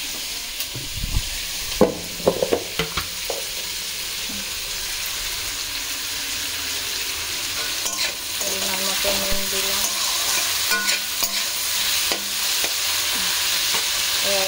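Potatoes and onions fry in a home kitchen pan beside set-aside fried eggs, a steady close sizzle with a few sharp utensil knocks early on and a constant crackling hiss after.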